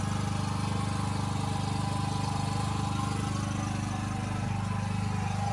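A generator hums steadily on a brick bus, a constant mid-pitched engine drone with an even idle rhythm throughout, close and fairly loud, no talking.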